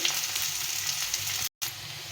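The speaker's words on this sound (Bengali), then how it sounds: "তো চলো প্রথমে পেঁয়াজটা একটু ভেজে নিই লাল লাল করে" Onions frying in a pan for an egg biryani, a steady close sizzle with crackling and a brief cut to silence partway through.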